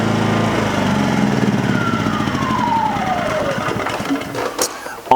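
An Atima AY2000i 2000-watt portable inverter generator runs loudly nearby, its engine hum sweeping down in pitch as it shuts off and winds down to near quiet at the end.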